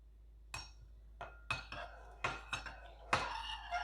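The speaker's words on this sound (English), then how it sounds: "Go ahead and mix it a little." Spoon stirring yeast into dough in a bowl, with sharp irregular clinks and scrapes against the bowl, close but fairly quiet, spaced a fraction of a second apart.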